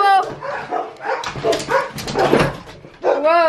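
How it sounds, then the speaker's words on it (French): Dogs at home barking, yipping and whining excitedly at close range as their owner arrives, mixed with the owner's eager voice greeting them. "Les chiens vont capoter."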